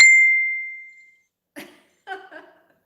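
A single bright ding from a phone signals an arriving message, ringing clearly and fading over about a second before some brief faint rustles and soft sounds follow.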